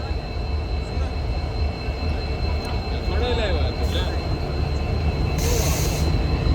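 An Indian Railways train rumbles steadily close by during a manual locomotive change, with faint metallic wheel squeals and a brief hiss near the end.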